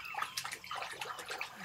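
Water splashing sound effect in a puppet show: a quick run of bright, irregular splashes and sloshes, moderately close with no voices over it.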